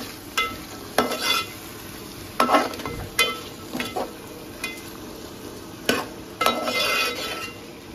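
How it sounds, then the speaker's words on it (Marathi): Cauliflower and other vegetables are stir-fried together in oil, with a constant hiss of frying under repeated scraping and clinking of a spoon against the pan, close and fairly loud. "हे तिन्ही भाज्या एकत्र तेलावर जरा असे मारून घ्यायचे"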